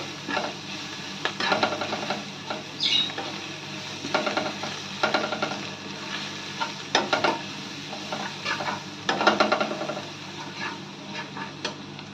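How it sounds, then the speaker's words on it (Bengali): Garlic and curry leaves frying in a pan for chicken 65, a steady sizzle broken by repeated scraping and clinking strokes of a spoon stirring against the pan. "যাতে রসুনটা পুড়ে না যায় সেরকম ফ্রাই করবে"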